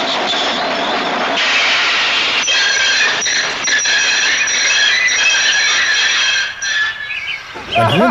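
A Trainz simulator train braking to a stop, with steady rumbling and hiss and high, sustained wheel squeal growing louder before easing off near the end.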